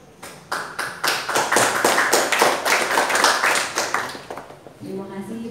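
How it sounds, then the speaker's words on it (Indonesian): A seminar audience in Adiwerna, Tegal claps in a dense burst of overlapping hand claps that builds and holds for several seconds, then thins out as a voice begins speaking. "Tepuk tangannya dong sekali lagi"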